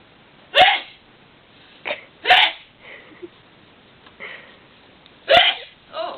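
An elderly woman sneezes several times in short, sharp bursts separated by quiet pauses, each one loud and close, with softer breathy sounds in between.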